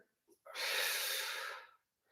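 A single long exhale during a Pilates exercise, a close, airy breath lasting over a second, with faint soft breathing sounds just before and after it.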